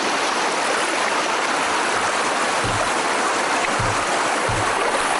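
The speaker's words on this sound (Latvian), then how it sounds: "Tad tāda forša krāce." River rapids rush loudly and continuously, a close, dense roar of churning water with a few low thumps partway through and no voices.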